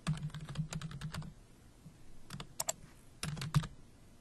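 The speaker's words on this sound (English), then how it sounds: "Type in your email address." Typing an email address on a computer keyboard: two bursts of quick, close keystrokes in an irregular rhythm, separated by a short pause with a few scattered taps.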